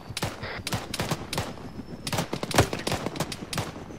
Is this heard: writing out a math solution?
no